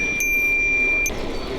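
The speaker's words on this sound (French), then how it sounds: "Comme d'hab, la sonnette, toujours utile." A bicycle bell rings twice on a gravel bike ride, its bright metallic tone lingering over steady road and wind noise.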